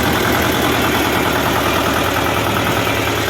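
A T-25 tractor engine idles steadily and close by, a loud continuous low rumble with no smoke or leaks, running alone without breaks.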